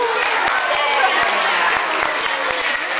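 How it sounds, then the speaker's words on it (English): Aquarium show audience at Maritime Aquarium in Norwalk gives a steady round of clapping, dense and continuous throughout, with crisp individual claps standing out near the front. "Let's give them a clap."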